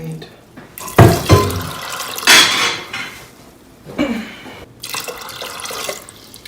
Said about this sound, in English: To that, we're going to add 5 cups of water.